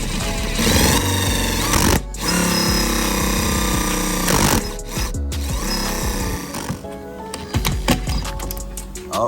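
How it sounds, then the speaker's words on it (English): Loud bursts of an impact driver hammering and whirring while fitting a carbon gas door on a 2018-2024 Toyota Camry, broken by brief pauses, close by and dominating throughout. "So we're gonna go ahead right here, get an impact."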